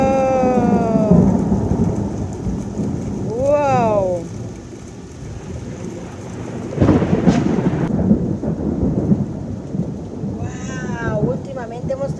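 A heavy thunderstorm with rain pours steadily over a flooded yard in New York, a loud, dense rushing wash with a deep rumble swelling midway, while a cat meows repeatedly nearby.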